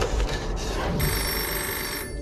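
An old-style telephone bell rings steadily, loud and close, over a dense rumbling background.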